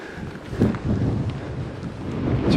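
Strong wind gusts by a lake in late autumn, buffeting the microphone in loud rumbling surges that swell and ease throughout, with no voices.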